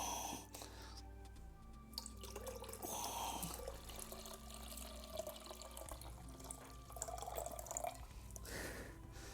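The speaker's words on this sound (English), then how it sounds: "Now I'm going to pour 10 ounces of developer in here to get myself up to 20." Film developer pours into a developing tank already holding water, making a steady trickling and splashing liquid sound. It is quiet and close up, with faint background hum.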